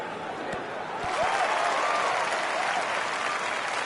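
Crowd at a golf tournament in a video game applauds in a dense, sustained wash, with a faint commentator voice beneath.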